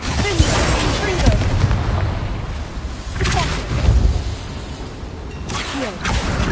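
The Bombarda explosion spell in Hogwarts Legacy booms out in several deep blasts with whooshing tails, loud and close, spaced a couple of seconds apart amid a spoken spell call and game noise.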